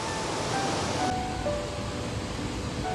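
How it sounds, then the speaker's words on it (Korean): Spray from a waterfall at a lookout in Banff National Park makes a steady, loud rushing roar, a broad, unbroken wash of water noise filling the whole stretch. "폭포수로 그냥 샤워하는 것 같네."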